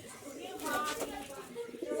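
A Giribaz male and Malbai female pigeon coo softly in a loft, faint and close, under someone talking.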